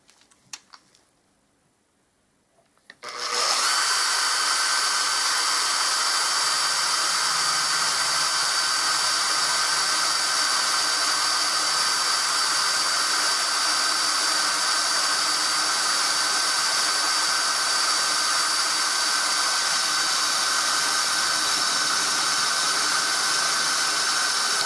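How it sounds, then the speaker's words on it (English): A power drill bores a hole in a cabinet door for a letter plate, with ply clamped behind, starting after a few seconds of quiet and then whining loudly and steadily, close by, for the rest of the time. "Now I've popped this exactly where I need to drill."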